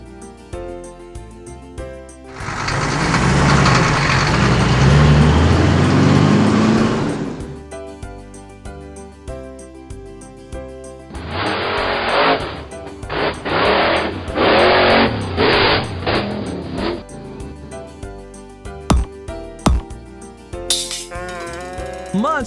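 A water tanker truck in a children's alphabet song: a loud broadband engine rumble swells for several seconds, then after a pause a series of rhythmic revving bursts follows, with music underneath throughout.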